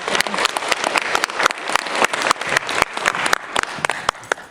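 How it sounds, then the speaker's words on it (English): Audience applause at a talk on social change, dense hand clapping filling the room steadily throughout, with scattered sharp claps standing out. "Give them a big round of applause."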